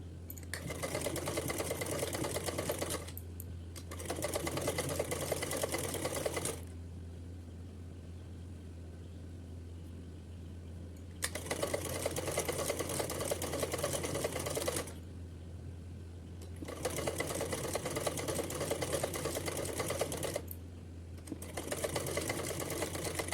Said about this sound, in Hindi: चलिए तो इसको खींचते हुए सिलेंगे हम।